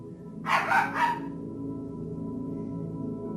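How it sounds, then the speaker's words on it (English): A dog indoors gives a short burst of about three quick barks close by, then falls quiet over a steady low background hum. "Sorry, it's my dog."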